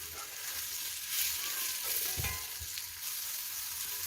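White mushrooms fry in oil while being stirred, making a constant close sizzle with occasional scraping and knocking of the utensil against the pan, and no voices.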